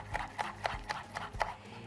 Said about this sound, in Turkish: Şimdi kapyalarımızı da doğrayalım.